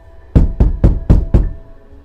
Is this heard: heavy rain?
no